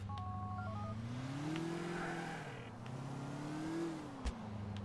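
A stolen Mazda MX-5 idling and revving in Grand Theft Auto IV, a low steady engine drone that rises and falls in pitch a couple of times, with a short thump near the end.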